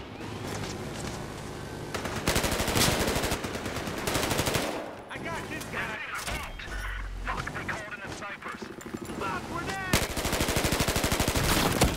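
Rapid automatic gunfire and scattered shots crackle through a Battlefield Hardline beta match, loud and nearly continuous with bursts overlapping each other, while a player talks over the shooting.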